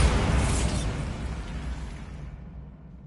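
A Bombarda blasting spell explodes in Hogwarts Legacy: one loud, close burst that booms and rumbles, then slowly fades away over about three seconds.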